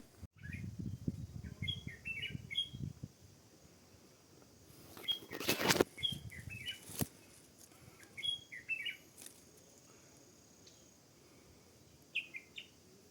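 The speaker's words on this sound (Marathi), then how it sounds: "तुम्ही आता आवाज ऐकला असेल पक्ष्यांचा" Several birds chirp and call in the forest on a trek toward Kalavanti Durg, short scattered tweets at moderate distance amid quiet, with a brief rustle and low rumble early on.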